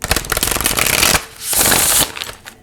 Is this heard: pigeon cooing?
no